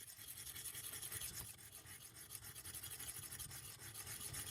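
A knife is drawn across a sharpening surface in repeated rasping strokes, faint and close, with a steady scraping rhythm and no voices.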